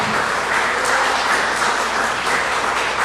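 A church congregation claps loudly and continuously, a thick, even roar of many hands sustained throughout with no talking on top.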